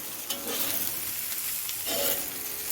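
Egg fried rice with quinoa and grains stirred in a pan, a steady sizzle with scraping spatula strokes every second or so, close and moderately loud, no voices.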